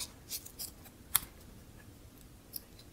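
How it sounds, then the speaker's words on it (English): Scissors cutting floral tape, a few quiet close snips spaced across the clip, with one sharper, brighter cut standing out near the middle over a soft room background. "just cut some floral tape off so that we can easily wrap it"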